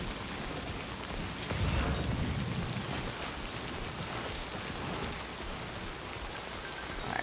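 Steady rain pours throughout a scene in the video game Death Stranding 2, a dense hiss of drops on surfaces with a brief heavier low rumble early on and no voices.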